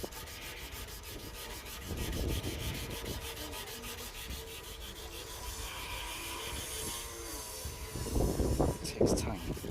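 Car paint is hand sanded wet-and-dry with 120-grit paper, a soft repeated rubbing scrape in uneven strokes that grows louder and choppier toward the end, with quiet talking faintly underneath.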